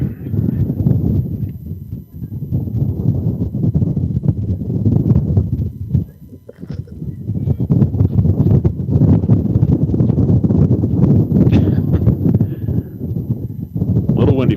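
Gusty wind rumbles and buffets the microphone steadily throughout at an outdoor high school softball game between Alamogordo and Las Cruces, with faint voices underneath.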